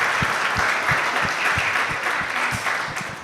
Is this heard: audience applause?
yes